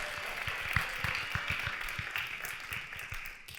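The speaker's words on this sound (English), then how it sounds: "extra clap for our young 19-year-old Sarah" At a caregivers conference, a crowd applauds with sustained, moderately loud clapping from many hands, with a few sharper individual claps standing out from the steady wash.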